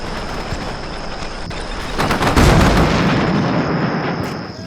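Distant gunfire and artillery rumble from the wargame Combat Mission Shock Force, a continuous dense battle din that swells into a heavier, louder burst midway before slowly easing off, with no voices.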